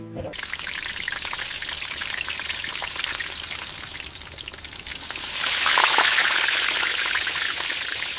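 Fish frying in a pan gives a steady, dense crackling sizzle that swells louder about halfway through and holds to the end, with no talking.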